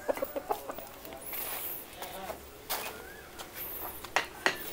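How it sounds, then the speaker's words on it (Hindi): Chickens cluck in short, scattered bursts nearby, with a rooster's squawks among them and quiet pauses between the calls. "देखिए मुर्गा"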